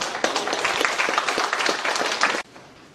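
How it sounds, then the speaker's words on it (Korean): A church forum audience welcomes a speaker with vigorous applause, many hands clapping loudly and evenly for over two seconds before cutting off abruptly into a quiet room tone. "나오실 때 박수로 맞이해 주십시오."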